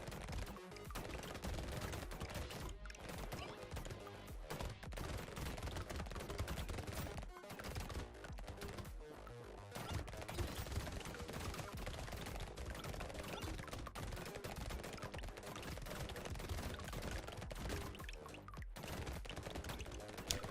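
In the video game Brotato, several SMGs fire at once in a dense, unbroken rattle of rapid gunfire that stays loud and busy for the whole stretch, layered with game effects.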